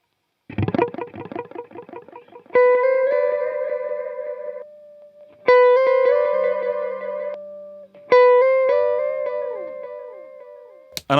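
An electric guitar through a Fender Hammertone Space Delay pedal on a spacey, echoey mode: a strummed chord, then three picked melodic phrases, each trailing into repeating echoes that fade, with no voices.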